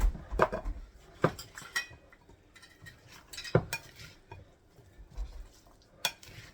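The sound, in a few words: stirring seasonings into chicken and potato casserole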